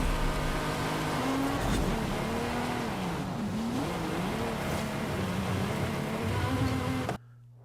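Ferrari engine in the Forza Horizon 5 racing game roaring steadily at high revs, pitch rising and dipping through gear shifts over several seconds before cutting off abruptly.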